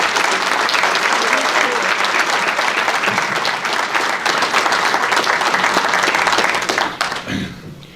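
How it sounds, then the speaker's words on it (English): A large audience at the 2021 Crystal Apple awards ceremony applauds its six finalists loudly and continuously, with scattered cheering mixed in, before the clapping tapers off abruptly near the end. "How about one more round of applause for all 6 of our finalists?"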